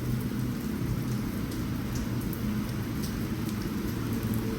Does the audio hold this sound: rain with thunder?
yes